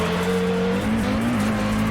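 A 1990s Bathurst-winning race car in a Bathurst racing video game squeals its tyres under oversteer, a steady high screech riding over the droning engine, with the pitch dipping and rising as the car slides.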